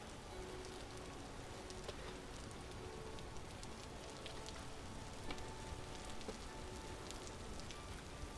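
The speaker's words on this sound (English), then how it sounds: "it's raining and thundering outside" Steady rain patters outside in Vintage Story, a dense, even hiss of drops on surfaces, soft and continuous with no voices.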